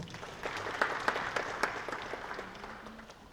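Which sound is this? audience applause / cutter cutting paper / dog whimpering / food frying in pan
audience applause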